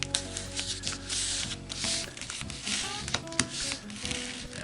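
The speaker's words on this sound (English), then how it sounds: "So fold this point to here and hold the layers down so they don't slide." Paper crinkles and rustles as a single sheet is folded into a four-pointed origami ninja star, soft close-up creasing and sliding of layers, fairly quiet with no talking.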